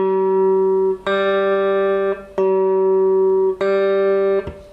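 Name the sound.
two guitar strings plucked for tuning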